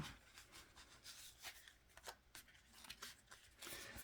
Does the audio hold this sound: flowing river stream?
no